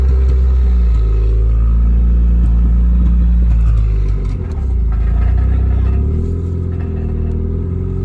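A manual-transmission car engine hums and rumbles steadily during a dealership test drive, revving slightly with a low, continuous drone and a brief dip midway.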